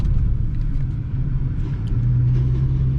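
A Ford Taurus engine pulls hard under acceleration, a steady low rumble with a droning tone that swells and holds loud near the end.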